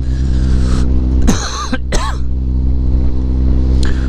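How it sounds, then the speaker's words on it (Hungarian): Two harsh coughs from someone with a throat dried out by long talking, loud and close, heard over a steady engine hum from a motorcycle setting. "köhögéstől, de így a sok beszédtől totálisan kiszáradt a torkom."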